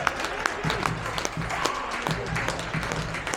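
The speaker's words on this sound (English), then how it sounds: "That's given the home fans something to cheer about." Home football supporters at Dorchester Town cheer and clap a diving-header goal, a broad crowd roar with scattered sharp claps and shouts rising across the stands, fairly distant and sustained.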